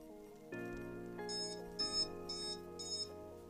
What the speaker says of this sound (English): It will beep when I go up, like any variometer.